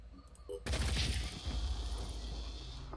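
A soldier's gun in Phoenix Point opens up with a sudden loud burst of rapid gunfire that then rings out and fades, close and dense, after a quiet moment of faint sounds.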